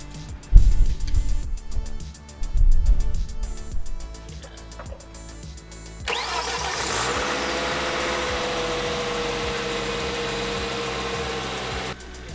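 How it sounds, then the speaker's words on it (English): The engine of a Volvo XC90 being checked after a variable valve timing repair revs in a few bursts at first, then settles into a steady, sustained hum, recorded close by. "Here I'm revving up the engine to make sure nothing leaks"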